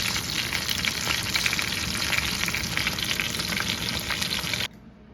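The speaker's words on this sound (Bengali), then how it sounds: "ঝিঙ্গা দিয়ে ভাজি করব।" Ridge gourd fries in a pan with a dense, steady close-up sizzle that cuts off abruptly near the end, leaving quiet room tone.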